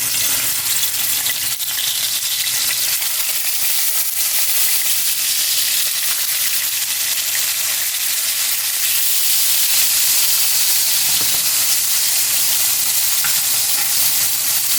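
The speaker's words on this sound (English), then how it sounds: "My frying pan here has gotten hot. I'm going to go ahead and lay my steaks down." Ribeye steaks hiss and crackle steadily in a hot frying pan with melted butter, a dense continuous sizzle close up that holds at an even level throughout, with no talking.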